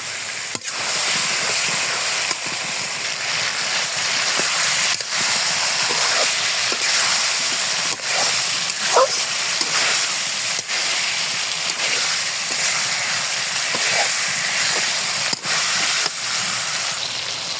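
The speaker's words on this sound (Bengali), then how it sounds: "এখন গোশত আমি অনবরত নাড়তে থাকবো" Chicken pieces with masala sizzle steadily in a hot pan, a continuous loud hiss broken by faint clicks and scrapes as the meat is stirred without pause.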